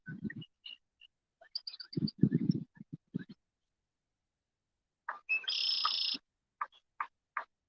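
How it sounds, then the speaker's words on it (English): Birds and frogs call outdoors near a fishing spot in the countryside, scattered short chirps and croaks in bursts with a longer buzzing trill, faint and separated by quiet gaps. "Can y'all hear the birds and the frogs"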